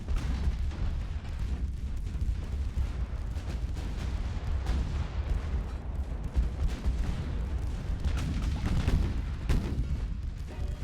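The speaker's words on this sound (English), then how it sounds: "Light cruiser ammo detonation." A light cruiser's ammunition detonates amid naval gunfire in Ultimate Admiral: Dreadnoughts, heard as a dense, continuous rumble of booming cannon blasts and distant explosions.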